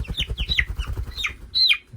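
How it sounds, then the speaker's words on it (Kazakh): A hen clucking close by, rapid soft low pulses overlaid with repeated higher squawky calls, ending in a louder drawn-out cackle, no talking. "Мына менде тауық."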